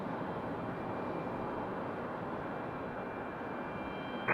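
A Boeing 777 jet rumbles past as a constant, moderately loud engine roar that stays even throughout, with no voices over it.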